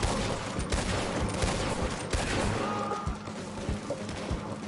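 Rapid video game gunfire, dense bursts of shots rattling continuously with sharp cracks throughout, loud and close, with no clear talk over it.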